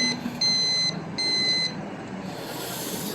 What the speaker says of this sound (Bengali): তারপরে এই যে বাম পাশে সিগন্যাল লাইট